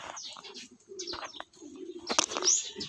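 Pigeons descend to a loft, with soft cooing calls, chirps and bursts of flapping wings close by, intermittent and fairly quiet, with no talk.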